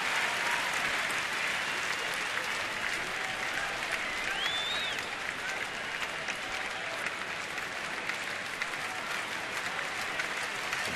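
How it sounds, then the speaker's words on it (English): Big baseball stadium crowd cheering and applauding during a Brewers at Nationals game, a dense sustained roar of clapping and shouts that holds steady throughout, with a faint whistle in the middle. "Big crowd starting to make some noise here in the top of the third"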